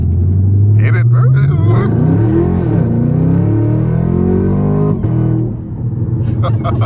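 Chevrolet Camaro ZL1 accelerates hard in track mode, its V8 engine rising in pitch through the gears with a loud rumbling roar and a brief shift dip, heard from inside the car while people talk.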